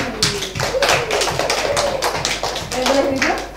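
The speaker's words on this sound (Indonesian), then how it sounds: "Jadi tepuk tangan buat kelompoknya ini." Classroom applause for a student group, a dense burst of rapid hand claps from many people, close and steady for several seconds with voices underneath.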